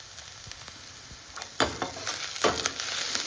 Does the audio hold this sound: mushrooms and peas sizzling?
yes